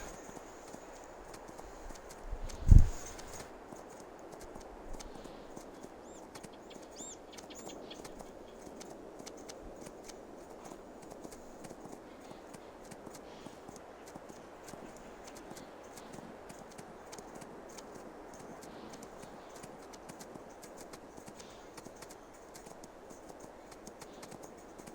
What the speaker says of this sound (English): got the horse turned around and we're heading back to the stable